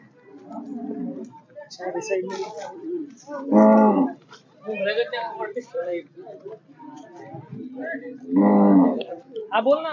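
Two loud, drawn-out Khillar cattle moos rise above a crowd at a livestock show in Satara, one near the middle and one near the end, with people talking throughout.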